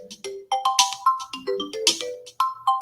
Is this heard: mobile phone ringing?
yes